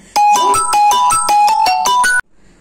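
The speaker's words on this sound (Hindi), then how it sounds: "मैं फोन एयरप्लेन मोड पर रखना भूल गई, इसलिए बीच में कॉल आ गया" A phone rings with an incoming call, a loud, bright electronic ringtone melody of quick repeated tones lasting about two seconds before it cuts off abruptly, heard alone without talk.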